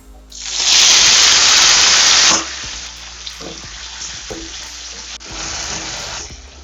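Chopped tomatoes drop into a hot pan for spicy tomato chutney and fry with a loud burst of sizzling, which settles into a steadier hiss as a spoon stirs and scrapes the pan with soft clacks.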